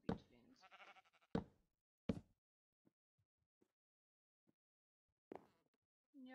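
Sheep in a survival video game let out a few short bleats among sparse clicks and knocks. A player's voice speaks at the start and again near the end.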